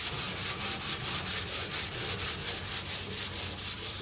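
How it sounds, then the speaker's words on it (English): Red rust is scrubbed off steel in fast back-and-forth strokes, a close, rhythmic rasping about four times a second, steady and alone. "you scrub it, and look how fast all that red rust is disappearing"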